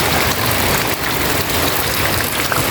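Steady rain falls beside a house, a dense continuous patter on surfaces close by, loud and unbroken with no voices.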